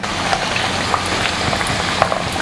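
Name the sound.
potatoes frying in hot oil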